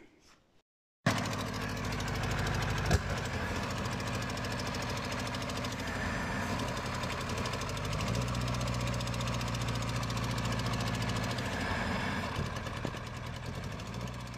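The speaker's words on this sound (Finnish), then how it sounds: "Kokeillaan vielä kerran panna pörisen." Lada 2105 car engine with carburettor trouble firing up after a short quiet moment, then running roughly and loudly at a lumpy, uneven idle that continues steadily to the end.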